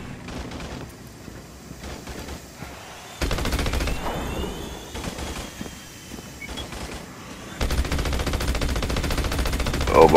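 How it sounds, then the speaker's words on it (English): Automated turret gunfire in the video game Battleborn, sustained dense rattling fire that starts, stops and resumes in long loud stretches amid other game noise. "I need to deploy some turrets to prevent that from happening."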